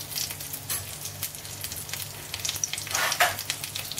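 Urad dal, chana dal and chilli sizzle and crackle in hot oil, with bursts of stirring scrapes against the pan, close and steady.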